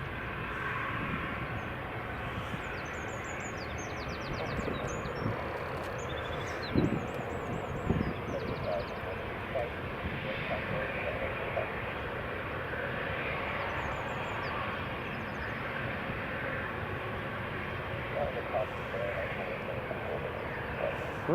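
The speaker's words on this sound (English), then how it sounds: "Got a Loganair Embraer 145 lined up on runway 24" A Loganair Embraer 145 jet lined up on runway 24 at Edinburgh Airport produces a steady, distant engine roar with wind noise, holding level throughout with a few brief louder bumps.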